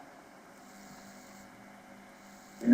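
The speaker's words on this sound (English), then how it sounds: "can you please switch off that fan at your side?" An electric fan running near a participant's microphone makes a steady low hum and faint airy hiss throughout, ending in a brief louder bump.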